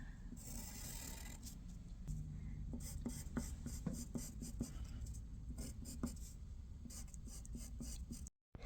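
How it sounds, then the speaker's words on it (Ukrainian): A pencil scratches across paper drawing a trident, with steady close rubbing strokes and short repeated lines throughout, brief tapping accents in the middle, ending in a short silence. "я намалювала тризуб олівцем"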